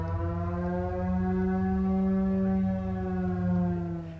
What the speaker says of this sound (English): Someone up on the hill has an old air raid type of siren